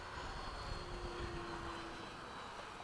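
Steady turbine whine and roar from a Freewing 90mm F/A-18 radio-controlled jet on approach to land, a continuous moderately distant hum with a faint tonal whistle and no audible talk.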